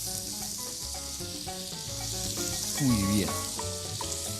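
Meat fries in a pan with a loud, continuous sizzle. Brief speech and a tonal sliding sound sit over the frying.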